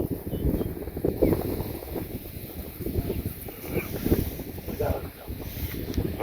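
Wind gusts around a small village boat on water during a water-lily gathering trip, a rough, blustery rush with low rumbling buffets against the microphone, steady and close throughout.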